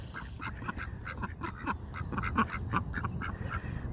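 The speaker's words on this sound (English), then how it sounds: "You can hear them. They're starting to quack." Ducks quack repeatedly at a pond in quick, uneven bursts, fairly close, with several birds calling over one another against a low background rumble.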